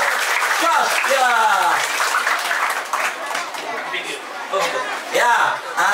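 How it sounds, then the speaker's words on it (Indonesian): Children at an English and character camp in Cengkareng clap for Kak Bella. The applause mixes with lively chatter and laughter, rising and dipping over several seconds. "Tepuk tangan buat Kak Bella sekali lagi dari Joss."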